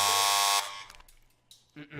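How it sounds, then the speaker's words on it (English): A buzzer sounds the end of a work shift, one loud, harsh electric blast lasting about half a second that cuts off sharply. A few faint clicks and knocks follow. "The buzzer signaling. The end of the first shift echoes through the room."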